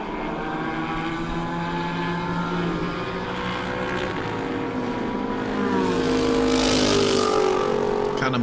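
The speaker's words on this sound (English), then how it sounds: "Car number 1 continuing to set the pace at the front of the field here, Kantidi Kusiri." A racing car drives on track during a motorsport race session, its engine a sustained, loud whine whose pitch rises and falls with gear changes, growing louder toward the end as it passes close.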